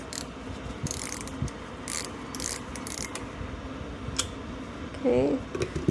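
A dirty, gooey bobbin holder being removed from an old Demorest shuttle sewing machine gives close metallic clicks, ratcheting ticks and small rattles, scattered unevenly with a brief louder clatter near the end.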